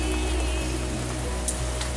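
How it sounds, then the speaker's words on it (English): Rain band from Hurricane Irma with 20 to 30 knot winds, steady heavy rain pattering on a surface with a constant low wind roar, no voices. "20 to 30 knot winds right now, which is just like a rain band coming through"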